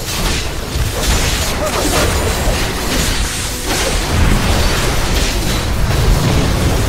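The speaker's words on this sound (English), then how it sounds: "Another turret is down." Turret destruction in a League of Legends match, a loud, dense burst of explosive booms and crashing game effects filling the whole stretch, with in-game sound layered throughout.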